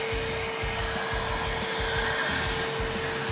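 A flash dryer blows hot air to cure plastisol screen-print ink on a heat transfer, a loud steady whooshing hum with a constant tone and a faint low pulsing underneath.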